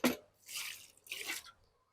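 A liquid mixture of cow dung and cow urine for panchagavya is poured in two short splashing pours after a brief clatter, close and fairly faint, with no talk.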